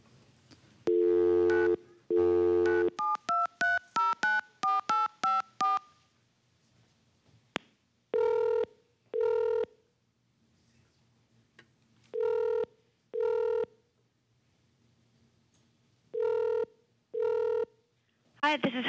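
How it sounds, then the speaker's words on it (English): A telephone call is placed: a rapid run of touch-tone dialing beeps, then a repeated ringback tone in evenly spaced pairs of buzzing rings with silent gaps between them, clear and close over a quiet line. "let's call her up"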